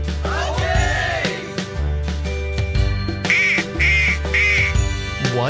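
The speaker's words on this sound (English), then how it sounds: "It's a duck!" A duck quacks in a children's learning cartoon, several loud nasal quacks set within music, repeated in short bursts toward the end.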